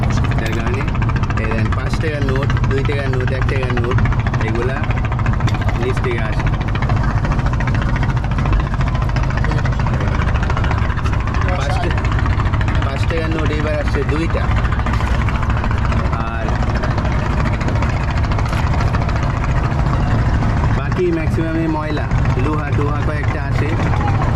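Small wooden boat's engine droning steadily on the Buriganga river, a constant low mechanical hum throughout with a voice talking over it.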